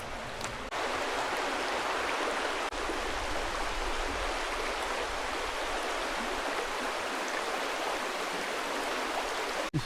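Steady, broad rushing of a river flowing beside a walking trail on the Tonge Trail near Bolton, loud and continuous for about ten seconds with no voices.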